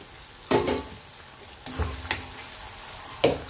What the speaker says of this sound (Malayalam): വേപ്പിലയും കൂടി അതിൻ്റെ കൂടെ ഇട്ട് നമുക്ക്